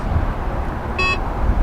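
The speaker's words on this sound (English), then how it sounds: "makes the beep noise, and then it automatically closes" A short electronic beep from a Tesla as its power trunk begins to close, one brief tonal chirp over steady broadband background noise.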